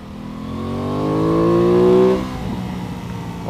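An Aprilia Tuono 660 motorcycle engine climbs steadily in pitch as it accelerates close by, peaking loudly before easing off into a lower steady drone.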